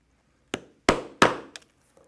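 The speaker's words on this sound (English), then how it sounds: "And now for the rivets, I will punch 1/8 inch holes." Hand punch striking through leather to make 1/8 inch rivet holes, four sharp hammer taps in an uneven rhythm, the middle two loudest, each a crisp close knock with a short ring.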